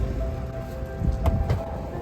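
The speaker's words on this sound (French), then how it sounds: "Rentrons, il pleut." Rain falling outdoors, a steady soft patter with a few louder drops or gusts near the end, heard alone without any voices for about two seconds.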